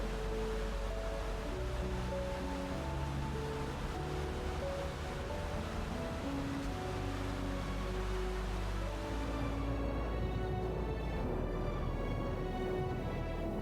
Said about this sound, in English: the Tegunungan waterfall plunges into a lush gorge